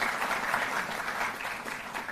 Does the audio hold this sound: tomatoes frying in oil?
no